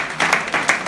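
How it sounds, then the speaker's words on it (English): Short burst of audience applause at an indoor gathering, clapping loud and close with a quick flurry of claps and no talk. "A round of applause for her, ladies and gentlemen."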